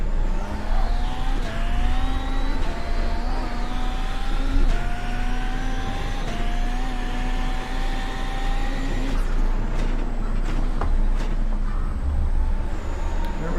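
Race car engine roaring steadily in a rallycross event at Daytona International Speedway in a video game, the pitch climbing and shifting through gears as it leaves dirt for pavement, loud and close throughout with no talking.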